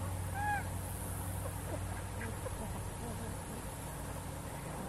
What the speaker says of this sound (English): Look at that goose over there.